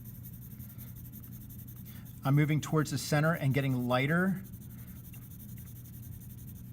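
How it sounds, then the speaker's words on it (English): An HB pencil scribbles very lightly on paper, a faint continuous scratchy hiss that runs under a person talking through the middle. "HB, and again, I'm scribbling, I'm barely touching the page."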